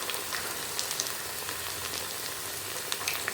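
Aval (poha) cutlets frying in oil on a medium flame make a steady, dense crackle and sizzle with small popping bursts throughout, close and moderately loud.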